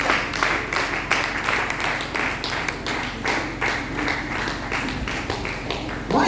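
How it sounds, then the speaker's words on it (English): A church congregation applauding during a sermon, dense continuous clapping from many hands filling the room at fairly close range, steady throughout without pause. "Clap for this, my wonderful mommies and daddies."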